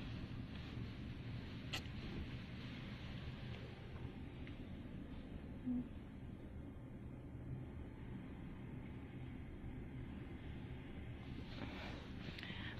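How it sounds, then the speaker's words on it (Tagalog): A steady, low rumble of strong wind buffets the microphone at a hotel in Kenting, Taiwan, constant and droning with occasional faint knocks. "Grabe lakas ng hangin."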